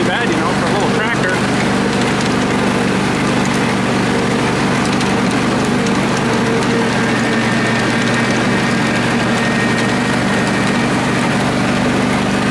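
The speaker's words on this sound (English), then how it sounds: "This thing boots along not too bad, you know, for a little tractor." A small lawn tractor engine runs steadily close by, a continuous rough mechanical drone with a faint rattling edge and no pauses.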